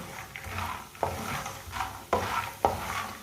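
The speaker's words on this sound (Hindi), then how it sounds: "फुल मखानों को चम्मच चलाते हुए पकाना है" Fox nuts (makhana) roasting in a pan while a spoon stirs them, giving scraping, rattling strokes in a loose repeating rhythm with a soft dry sizzle underneath. The sound is close and moderately loud, with no speech.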